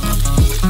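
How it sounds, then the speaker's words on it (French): Ground beef frying in oil in a pan on a stovetop, a close, steady sizzle throughout the short moment. "Mettez la casserole sur la cuisinière, ajoutez de l'huile et faire frire le bœuf haché."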